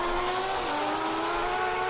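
Street race cars in Texas and Mexico roar in a sustained, loud engine drone with a gently shifting pitch, sounding like cars accelerating hard, with no talking.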